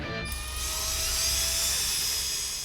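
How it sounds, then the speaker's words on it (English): A steady high-pitched electric drill whine spinning an original car distributor continuously, with a slight shift in pitch as it runs, close and loud. "The drill is hooked to an original distributor, so it's simulating it's in a car and spinning around."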